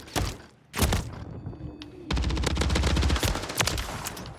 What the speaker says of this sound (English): So shoot me 3 times and then I'm going to start running away.